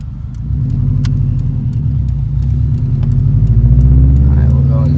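Subaru WRX engine revving in first gear, a steady low rumbling drone that rises slightly in pitch and loudness, heard from inside the car under a voice.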